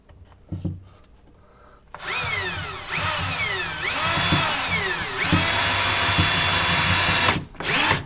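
A power drill drives 1.25 inch screws into wood while building a rolling tool cart, giving several loud, close whirring bursts with rising and falling pitch, separated by brief pauses.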